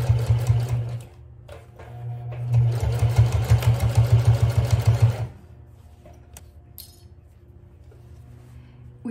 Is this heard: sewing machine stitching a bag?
yes